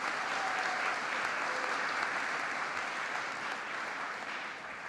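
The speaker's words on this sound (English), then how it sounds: "Can we give a round of applause for Ms. Simone Phillips?" A room full of audience members clapping for a speaker being introduced at a community event in Baltimore, a steady, even wash of applause at moderate level that tapers slightly toward the end.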